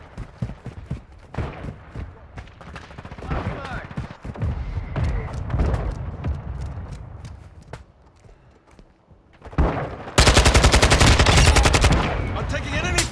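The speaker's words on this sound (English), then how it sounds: "I'm taking enemy fire!" Call of Duty: Modern Warfare II multiplayer combat: scattered near and distant gunshots and footsteps build into heavier firing, ending in a loud sustained burst of rapid automatic fire, with game voice callouts now and then.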